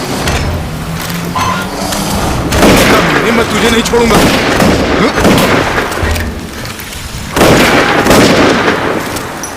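Repeated bursts of loud gunfire and booming shots ring out close by while someone shouts in Hindi over the shooting in a dubbed movie.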